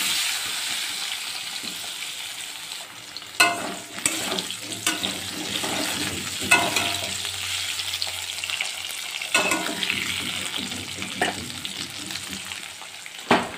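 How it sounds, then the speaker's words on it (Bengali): Cut potatoes fry in mustard oil with panch phoron, salt and turmeric in a continuous close sizzle, with sharp scraping stirs of a spatula against the pan every few seconds. "এবার এর মধ্যে দিয়ে দিলাম আমি পাঁচফোড়নটা ভেজে নিয়ে তারপরে দিয়ে দিলাম কেটে রাখা আলু"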